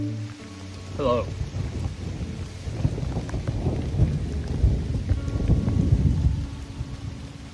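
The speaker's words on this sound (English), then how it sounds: "So it is thundering." Steady rain pours throughout while deep rumbles of thunder roll in and swell, loud and close, with a brief higher warble near the start.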